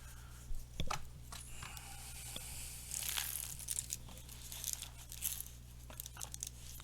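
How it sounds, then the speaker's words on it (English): Star Wars trading cards being shuffled back into a deck during a card game, faint close rustling, flicking and scraping with scattered sharp snaps, soft and irregular with a brief busier burst midway. "I'm going to shuffle these back in the deck."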